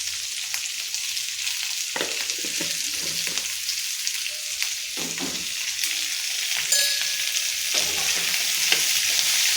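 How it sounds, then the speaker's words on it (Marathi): Onion frying with salt in a pan: a steady sizzling hiss runs throughout, with occasional scraping stirs, and no voices. "यामध्ये थोडं मीठ घातलं ना, कांदा लवकर भाजला जातो."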